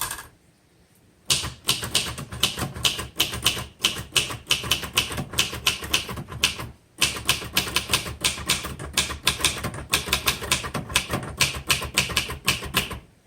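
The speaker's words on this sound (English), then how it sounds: "This is an excellent typewriter, good for beginners, good for everybody actually" Rapid clacking keystrokes from a 1963 Royal Safari vintage manual typewriter, loud and close in two dense bursts separated by a brief pause, with no talking.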